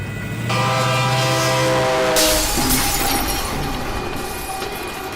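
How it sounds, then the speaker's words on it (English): A train blares its horn loudly and close as it approaches a crossing, the sustained blast fading into rumbling rail noise as it passes. "now the train's gonna make us late"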